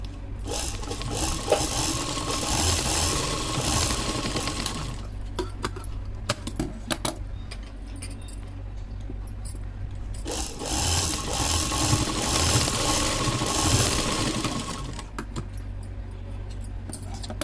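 Close, loud mechanical whirring and rattling comes in two long bursts separated by a quieter gap. It fits a sewing machine putting a few stitches into a round piece for a saree border.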